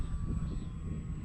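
An E-Flite T-28 Trojan 1.1 m electric RC plane on a 4S battery flies overhead, a steady whining motor drone with a constant high tone over wind rumble.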